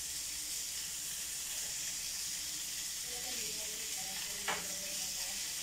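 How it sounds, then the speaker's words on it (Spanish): Ham fries in a pan with a steady, soft sizzle and hiss throughout, close but fairly quiet, with a brief scrape as it is flipped toward the end. "Y luego la volteo para que se dore el jamón"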